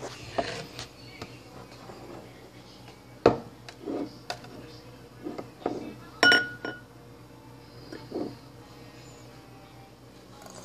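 Glass clinking as a root beer glass is tipped and set down, a scattering of sharp light clinks and taps at irregular intervals, with a couple of louder knocks, against a quiet room background.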